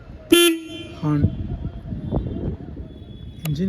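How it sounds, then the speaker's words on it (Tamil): A short honk of a Royal Enfield motorcycle horn rings out loudly and alone, followed by a second shorter beep, with rumbling background noise in between. "ஹார்ன்,"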